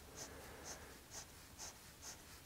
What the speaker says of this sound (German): Wir zeichnen jetzt einfach im 45-Grad-Winkel.